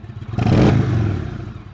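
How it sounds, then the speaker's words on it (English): An Indian Thunder Stroke motorcycle engine in neutral gets one quick blip of throttle. The idle swells into a loud, clattering rev that peaks briefly and then winds back down, heard alone at close range. "quickly rev the engine between 2000 and 2500 RPM, or about a quarter to half throttle"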